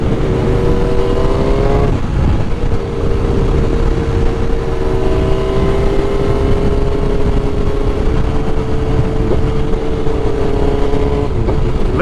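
Motorcycle exhaust pipes roar loudly and steadily during a ride on a country road, with engine pitch rising and falling through shifts amid constant wind rush.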